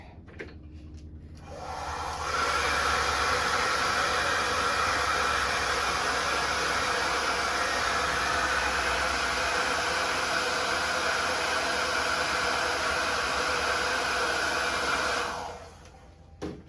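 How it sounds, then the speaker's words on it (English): A hair dryer blows with a steady, loud whooshing roar that starts after a couple of seconds, holds evenly, then cuts off near the end, while servicing a Westclox Spur Style 1 clock. "You give it a nice breeze with the hairdryer"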